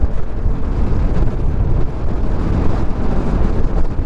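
Strong wind roars and buffets the microphone near Atimonan in the Philippines, a constant, rumbling low rush with no other sounds.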